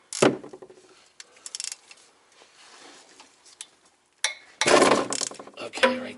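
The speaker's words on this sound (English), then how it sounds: "The drain bolt off. It's a 15 millimeter that you're going to need. So we'll just crack it loose," A wrench cracks loose the 15 mm oil drain bolt on a Cadillac ATS-V during an oil service, giving short bursts of close mechanical ratcheting clicks separated by near silence, with the loudest flurry near the end.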